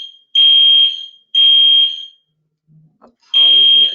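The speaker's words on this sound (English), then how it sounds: "my apartment is having this fire alarm testing" An apartment fire alarm under test sounds three loud, piercing electronic tones, each lasting about half a second to a second and separated by short gaps, with a brief faint voice in the quiet stretch before the last tone.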